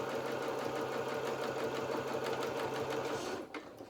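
A sewing machine runs a seam on a felt doll's duffle coat, a steady rapid mechanical whirr heard close up that stops abruptly near the end.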